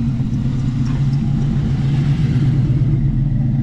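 A car engine idles steadily nearby, a deep, continuous rumble with a low throbbing pulse that stays even and loud throughout, with no voices.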